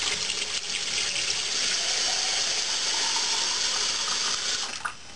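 Cold tap water gushes steadily into a mason jar, a continuous bright rushing pour lasting several seconds before tapering off at the end.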